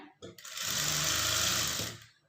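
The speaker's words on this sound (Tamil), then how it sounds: "கொஞ்சம் கொஞ்சமாக நீங்கள் நிறுத்தியே தையல் போடுங்க" A sewing machine runs one steady burst, stitching the side seam of a blouse; the motor whirs loud and close, starting and stopping cleanly after about two seconds.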